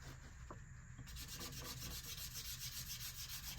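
Scrubber rubbing over dried watercolor paint on paper for a lift test, a close, continuous rough scratching and scraping sound, quiet in level but steady throughout.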